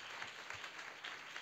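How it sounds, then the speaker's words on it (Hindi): A church congregation claps loudly and steadily in a brief burst of applause, a dense wash of many hands with no voices on top. "पवित्र आत्मा का जोरदार ताली बजाएं और स्वागत करें।"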